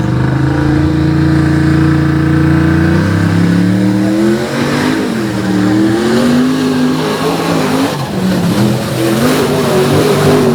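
Unlimited-class race vehicle engine running loud and close at a 2022 event, a deep, steady roar that climbs and wavers through revs, with no voices over it.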